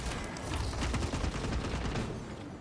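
Rapid bursts of gunfire from a Space Marine 2 sniper fight against Chaos and Tyranid enemies, a dense loud barrage of shots and booming impacts with mechanical clatter and no talking.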